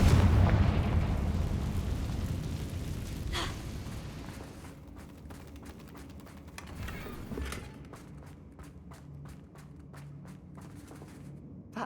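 Fiery spell blasts from Hogwarts Legacy, a Confringo fire spell: a loud booming explosion opens, then a couple of fainter thuds and crackling impacts follow amid scattered footsteps and game ambience.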